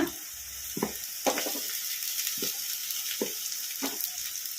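Onions fry in hot oil in a pan with a steady, moderately loud sizzle, broken by several short scrapes and stirs of a spatula at irregular intervals.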